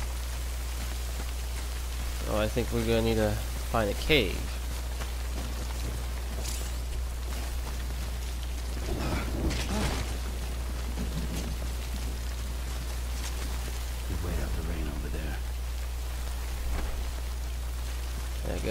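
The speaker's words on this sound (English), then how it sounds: "And it's raining." Steady rain patters down in the Death Stranding game world, a constant wash of hiss behind a low hum, while someone talks over it at several points.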